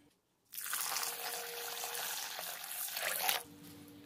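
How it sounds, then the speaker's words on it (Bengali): Gobindobhog rice washed by hand in water in a home kitchen: a steady, rushing, splashy wash of running and sloshing water lasting about three seconds, close and fairly loud, then stopping abruptly. "এবার আমি এই চালটাকে খুব ভালো করে জল দিয়ে ধুয়ে নেব।"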